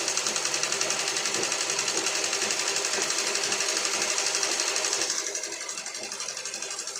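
A sewing machine runs a steady stitching line over fabric, its rapid even needle chatter loud and continuous, slowing and softening slightly near the end.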